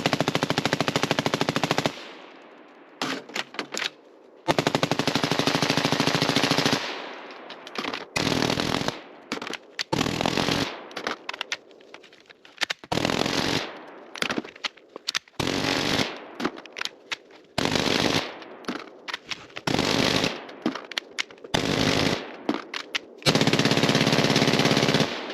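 Long bursts of automatic gunfire through a titanium B&T XH suppressor, loud and close, come in rapid strings separated by short pauses and reloads, run hard as a torture test.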